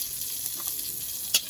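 Fish frying in a small amount of oil in a home kitchen gives a faint, steady sizzle throughout, with one brief sharper crackle near the end and no voices.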